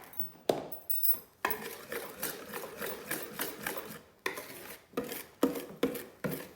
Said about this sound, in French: Et je vais venir fouetter délicatement.